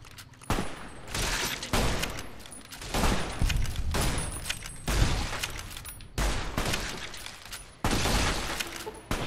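Repeated gunshots in Fallout New Vegas on Hardcore, about seven loud, punchy reports at uneven intervals of roughly one to two seconds, each with a brief ringing tail, near and uninterrupted by voices.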